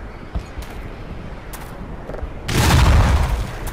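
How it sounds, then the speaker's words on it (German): A grenade explodes in the video game Black Mesa, a sudden loud boom whose broad rumble swells and lingers for over a second after a few quieter clicks and thuds. "Vielleicht sollten wir einfach mal eine Granate reinschmeißen."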